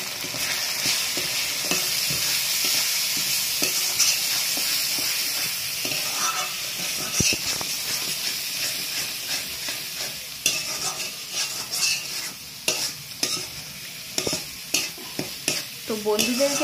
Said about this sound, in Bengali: ভেজে নেব মশলাটা